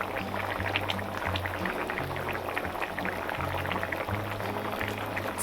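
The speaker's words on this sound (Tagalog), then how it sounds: "hahayaan po natin kumulo siya ng kumulo para maluto agad" Ginataang kalabasa, squash in coconut milk with mushrooms, boiling in a pot: a steady close bubbling and popping that continues evenly throughout, alone beneath a low mechanical hum.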